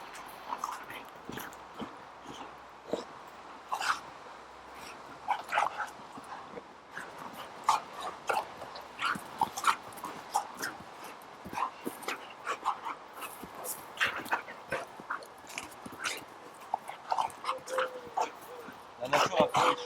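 American Staffordshire Terrier puppies playing, with yips, whimpers and short barks scattered among scuffling and biting sounds, close by, under frequent talking.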